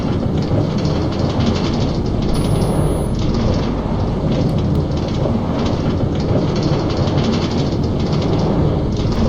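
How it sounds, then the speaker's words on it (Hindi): A train-like clickety-clack rail sound in the Minecraft video game: a loud, continuous rumbling roar with a dense rattling texture that holds steady throughout. "जो ट्रेन वाली आवाज आती है ना, वो वाली खट खट खट खट आ रही है।"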